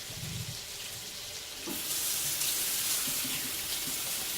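Running tap water splashes steadily into a kitchen sink while hands are washed after handling raw hamburger meat, a continuous close hiss that grows fuller and louder partway through.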